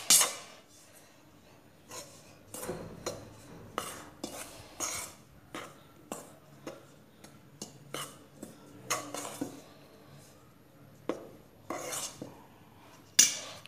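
A utensil scrapes and clinks rhythmically against a bowl while pizza dough ingredients and powdered milk are mixed, giving close, steady strokes with a few louder knocks and no talking.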